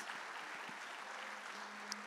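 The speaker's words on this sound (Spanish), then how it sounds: "hay que darle fuertes aplausos a Miguel Ñuflo" Audience applause for Miguel Ñuflo after his presentation at a TEOMA 2019 event, a steady, fairly faint wash of clapping through the whole stretch with a brief voice at the end.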